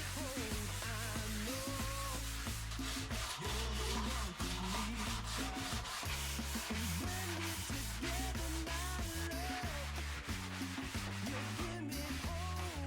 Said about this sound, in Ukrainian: Після повного висихання олії я її шліфую вручну наждачкою не менше 200 гріт.